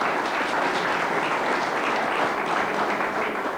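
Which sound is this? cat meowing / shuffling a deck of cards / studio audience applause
studio audience applause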